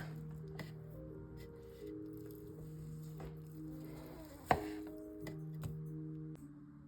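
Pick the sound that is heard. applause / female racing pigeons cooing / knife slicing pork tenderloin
knife slicing pork tenderloin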